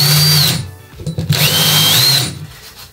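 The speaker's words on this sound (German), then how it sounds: "senke ich die Löcher noch." A power drill with a countersink bit bores screw-head recesses into wood. The loud, whining spin runs, dips briefly as the motor is released, then spins up again before stopping.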